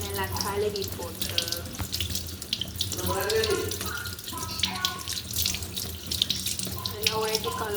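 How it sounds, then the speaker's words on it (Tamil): Potatoes are washed under a running kitchen tap, with water splashing steadily into a sink throughout and occasional clatter of handling. "இப்போ வந்து நாங்கள் உருளைக்கிழங்கு நல்லா கழுவி போட்டு"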